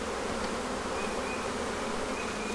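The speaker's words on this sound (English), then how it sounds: "I've got bees all over it" Honey bees buzz densely around an open hive during a bee-yard inspection, a steady, close, unbroken drone filling the whole moment with no voices.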